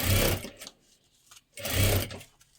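A sewing machine stitches a folded seam on a lehenga waist belt, running in two loud bursts of about half a second each, separated by a short pause with faint handling noise.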